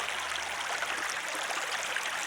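Water of Clear Creek in Missouri running a little high, flowing and burbling steadily as a broad, even wash close by with no pauses.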